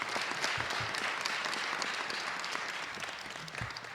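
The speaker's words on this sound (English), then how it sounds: "Can we give a round of applause for everybody?" An audience at a Detroit officials' event on the Shotstopper program breaks into applause, a steady wash of many hands clapping at moderate distance that continues for several seconds and fades slightly toward the end.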